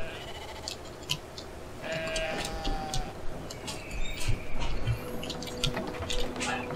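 A sheep bleats several times in the video game Brothers: A Tale of Two Sons, wavering cries over soft ticks, drips and squishy movement, with light background game sounds.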